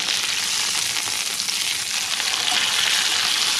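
Steak sears in a hot pan with a loud, steady crackling sizzle that fills the short stretch without a break.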